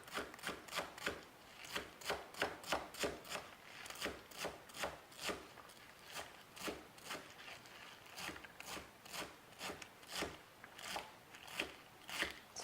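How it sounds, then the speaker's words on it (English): Knife chopping beetroot stalks into small pieces on a board, a fast run of crisp, evenly spaced cuts close by, steady throughout with no talking. "Now I'm going to cut the stalk into small pieces. You can just run the knife through here."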